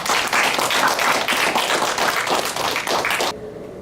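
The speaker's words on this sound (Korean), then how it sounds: "큰 박수 합니다." Loud, dense applause from a lecture audience of elderly attendees and council members welcomes a guest doctor, a speaker on local ordinances, sustained for over three seconds before cutting off abruptly into quiet room tone.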